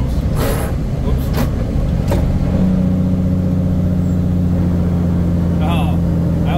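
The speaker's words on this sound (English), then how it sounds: "we're gonna do one more downshift, boys. This one's gonna be pretty high." Big rig truck engine droning loudly and rising in pitch during a high downshift, a steady low rumble that climbs and holds, close by.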